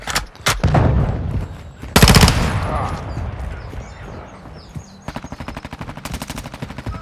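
Automatic weapon gunfire in Modern Warfare II, loud rapid bursts of shots with a pause between volleys and a steady rattling stream near the end.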